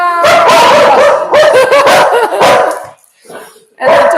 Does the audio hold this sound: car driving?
no